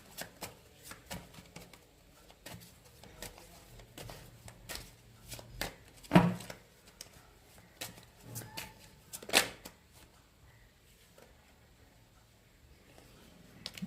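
Tarot cards shuffled by hand during a reading, soft quick riffling and flicking close up, with a couple of louder slaps and clacks partway through, no talking.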